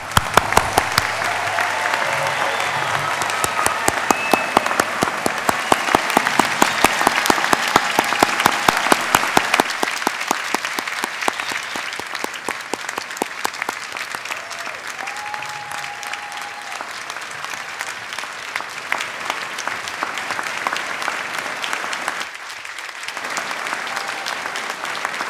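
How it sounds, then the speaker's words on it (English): A large convocation audience at a university fall ceremony applauds its graduates, steady dense clapping sustained for about twenty-five seconds, loud and close, with a brief dip near the end. "join me in applauding each of you"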